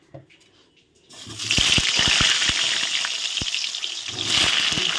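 Potatoes drop into hot oil with whole garlic cloves and whole onions, erupting into a loud, continuous sizzle with crackling pops after a quiet start, swelling again near the end.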